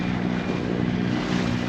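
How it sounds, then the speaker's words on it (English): Steady, loud wind rushing across the microphone on a sailboat heading upriver, a continuous broadband roar with a low rumble and no pauses. "It's got a bit windy with the"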